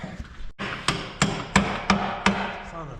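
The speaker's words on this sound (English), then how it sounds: "He's hammering the shaft that runs the clutch to get it to release" A hammer strikes the clutch release shaft of a Western Star truck with a Cummins N14 Celect Plus engine during engine removal, giving a steady series of about seven sharp metallic blows close by.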